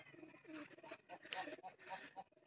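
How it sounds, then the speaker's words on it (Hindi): Pigeons coo softly in a low, repeated murmur, with a person talking over them at close range. "ये कबूतर है"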